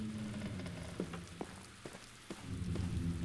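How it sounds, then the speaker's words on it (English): Constant rain pours in the video game The Black Mirror, falling through a broken window into puddles as a steady wash with scattered louder drips and splashes, no voices. "I like the constant inpour of rain here that never ever passes this section of puddleage."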